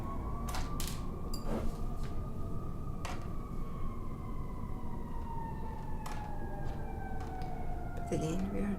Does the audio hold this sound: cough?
no